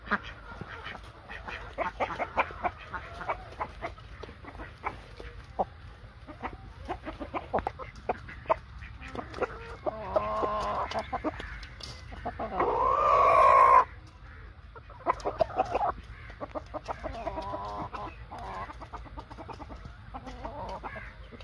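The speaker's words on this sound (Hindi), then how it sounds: "गंदम के दाने जो है इस सीज़न में मुर्गियाँ ज़रा कम खाती हैं, मगर बतखें जो है बड़े शौक से खाती हैं।" Chickens and ducks cluck and quack near the ground while pecking at scattered wheat grains, with a rooster among the flock. The calls are irregular and fairly close, with a louder burst of squawking partway through.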